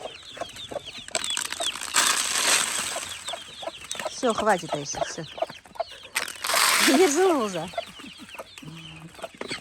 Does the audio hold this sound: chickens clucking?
yes